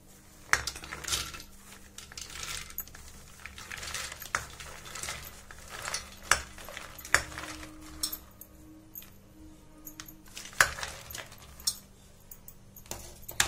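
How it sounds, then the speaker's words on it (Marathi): Fresh peanuts in their shells rattle and clink into a metal pressure cooker in scattered bursts, with hard taps of metal throughout. "अशा मी या कुकरमध्ये या शेंगा टाकून घेतल्या"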